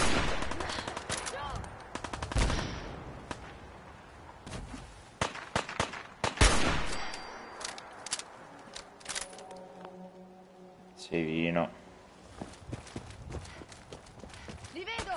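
Gunfire in the Fallout 4 video game: scattered sharp shots and short bursts, loud and close, mixed with excited talk and other game sounds.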